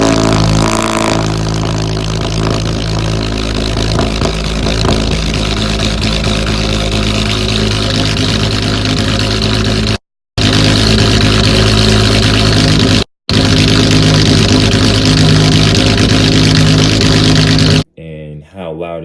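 Loud, sustained rumble of a car engine with a gutted exhaust and deleted stock catalytic converters, revving and holding close up, cut by two brief dropouts and a sudden change near the end.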